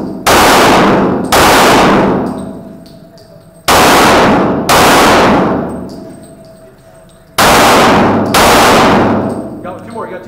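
Pistol shots at steel targets during a Halloween 3-gun match ring out loud and close in pairs, each crack followed by a metallic ring, with three double-shot groups spaced a few seconds apart.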